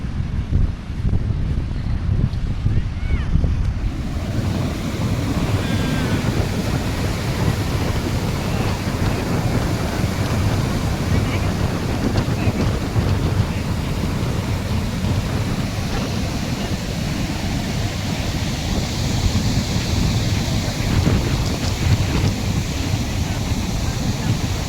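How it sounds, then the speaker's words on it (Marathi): Sea waves roll steadily onto Shiroda Beach on the Konkan coast, a loud continuous wash of surf with heavy wind buffeting the microphone throughout. "शांतता आणि हा असा समुद्र."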